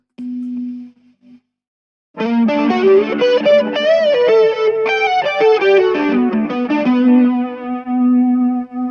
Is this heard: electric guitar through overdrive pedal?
yes